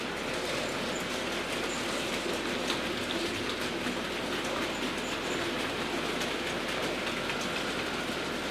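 Model railway locomotives run on a DC layout, giving a steady, faint whirring rumble with light rail clicks throughout and no pauses.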